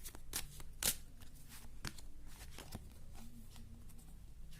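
Tarot cards being shuffled by hand during a reading, a soft continuous riffling patter with a few sharper snaps, quiet and close with no talking.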